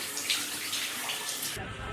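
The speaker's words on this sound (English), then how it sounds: "so the shower tray is draining, guys, it's just a bit slow" Water running steadily into a slow-draining hotel shower tray, a dense close hiss that cuts off abruptly near the end and leaves a low gurgle.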